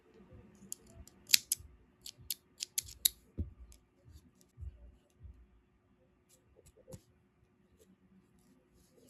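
Scissors snip through crochet yarn in a cluster of sharp, close clicks and cuts, followed by quieter scattered ticks and handling noises.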